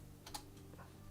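Typing on a computer keyboard, a few quiet separate key clicks with one sharper tap, faint and close, no voices.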